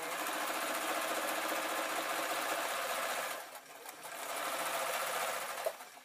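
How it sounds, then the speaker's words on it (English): A sewing machine runs steadily while stitching a jelly roll quilt, a close, even mechanical whir that pauses briefly midway before resuming. "I have got quite a little bit of sewing to do."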